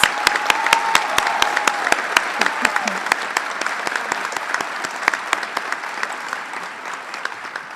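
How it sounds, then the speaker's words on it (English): Audience applause for veterinary nursing students at a white coat ceremony, steady crowd clapping with several sharp, close individual claps standing out, and faint voices in the room underneath. "Let's give one more round of applause for our veterinary nursing students."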